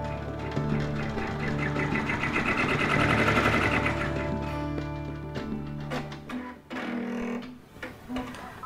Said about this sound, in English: Now I'm going to allow the machine to show me where the seam will be sewn